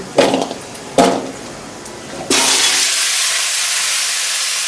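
Pumpkin, potato and slit green chillies go into a hot pan for khichuri sides, giving a loud, sustained sizzling hiss after a few light knocks and clatters.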